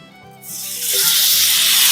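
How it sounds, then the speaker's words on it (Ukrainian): Porcini mushrooms tipped into a hot frying pan while cooking Ukrainian banosh, a quiet start giving way to a loud, bright hiss of sizzling that swells and holds steady to the end. "Тепер на цю скаму сковорідку додаємо білі гриби."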